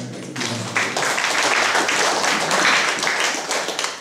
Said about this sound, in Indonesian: Ayo tepuk tangan bagi Tuhan.